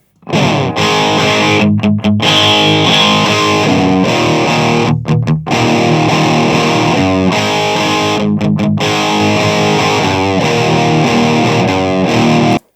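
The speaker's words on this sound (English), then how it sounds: "There you go, that's your guitar sound." Heavily distorted electric guitar plays chords and riffs with short stops between phrases, loud and close, with no voices.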